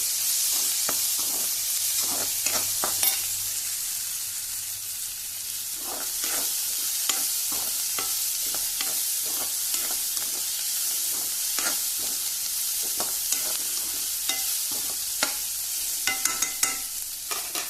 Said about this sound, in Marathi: हांवें कांदो घातलो, लसूण घातली, मातशें फ्राय करप